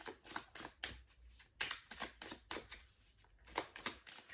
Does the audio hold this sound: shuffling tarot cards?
yes